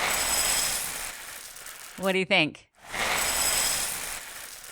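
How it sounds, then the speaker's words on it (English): Cocoa Pops cereal is poured into a bowl, a steady crackly rattle of small pieces hitting the dish. The pour runs on both sides of a short spoken question that briefly takes over the middle. "If you guessed pouring cereal into a bowl, well done. It sounds like Cocoa Pops."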